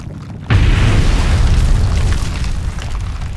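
A deep, sudden boom from an explosive grey volcano erupting, bursting in loud at once and then holding as a heavy, sustained rumbling roar that tapers only slightly.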